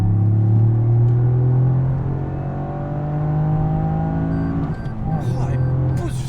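Toyota Yaris GR engine climbing to 7000 rpm, a rising, droning rev heard from inside the car, steady and loud, with someone talking over it.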